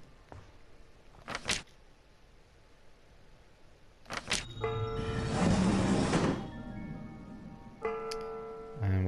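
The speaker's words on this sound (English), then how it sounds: "which means that was the sound of a projector coming together." Projector assembling itself in the video game Ether One: a few faint clicks, then a mechanical whirring, clunking sequence with a sustained tonal hum, fairly quiet and alone.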